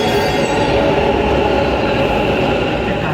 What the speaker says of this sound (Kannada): ನಮ್ಮ ಮೆಟ್ರೋ ಬಂತು